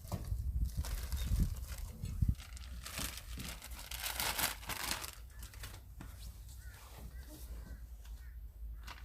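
Plastic packaging is ripped open outdoors during a backyard barbecue in the countryside: close, crackling tears and crinkles come in bursts while people talk nearby.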